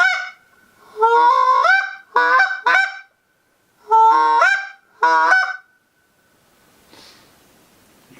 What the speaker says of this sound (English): Goose call, again, you can use this as a locator call.